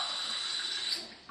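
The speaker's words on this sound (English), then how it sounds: "top it up with water" Water runs into a glass holding a teaspoon of brine solution, a steady bright hiss of pouring that tapers off at the end.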